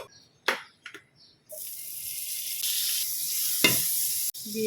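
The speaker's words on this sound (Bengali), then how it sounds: "চাটু বসিয়ে দিয়েছি, এবার এর মধ্যে একটু বাটার দিয়ে" Butter hits a hot flat griddle after a few soft clattering knocks, then sizzles steadily and loudly for the rest of the clip, with one brief scrape partway through.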